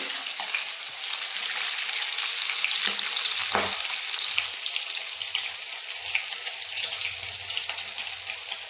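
Prawn heads fry in mustard oil in a pan, a loud, continuous sizzle heard up close, with a few faint knocks and pan sounds under the hiss.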